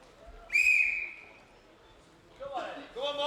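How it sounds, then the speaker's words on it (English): A referee's whistle gives one sharp, shrill blast, loud and close, to start a strongman log lift heat at an indoor competition. Shouted voices follow after a short pause. "On the whistle."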